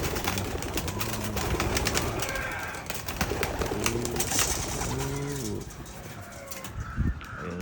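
Domestic racing pigeons cooing and fluttering as they are released for a morning flight, with repeated soft low coos and wingbeats near the listener throughout.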